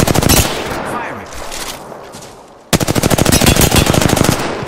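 Rapid automatic gunfire in Apex Legends, loud bursts at the start, a quieter gap, then a sustained loud stream of rapid shots to the end.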